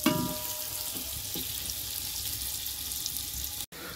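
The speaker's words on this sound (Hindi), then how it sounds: "गर्म हो चुका है, प्याज डाल रहे हैं हम" Chopped onions frying in hot oil in a pot over a flame, giving a steady, fairly quiet sizzling hiss with a few soft clatters near the start and a brief cut near the end.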